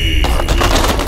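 A firecracker strip from a large 'super sack' goes off in a loud, rapid crackling burst of overlapping bangs, close up, with no talking.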